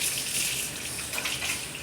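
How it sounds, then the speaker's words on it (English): A tap runs steadily into a lab sink while hands are washed, a soft, even hiss of flowing water with slight splashy flutters, faint and without speech. "I'm going to wash my hands, get some new gloves."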